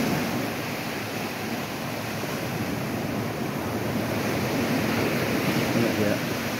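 Waves washing onto a sandy beach at Puting Buhangin in Cagwait, Surigao del Sur, a steady broad roar of surf with wind noise over the microphone, continuous and fairly near.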